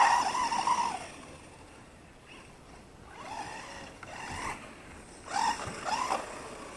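A ZD Racing 9106 4WD brushless 1/10 scale RC monster truck drives across grass, its motor whining in short rising bursts with quieter gaps between runs.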